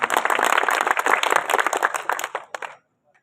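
Audience clapping at a Hindi poetry gathering in Pichhore, a dense burst of applause that fills the first few seconds and then cuts off abruptly into silence.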